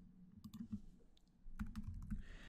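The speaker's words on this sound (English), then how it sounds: "Notice that I'm typing localhost :9780" Quiet, close clicking of keys on a computer keyboard typing a web address, in two short bursts of quick keystrokes separated by a brief pause.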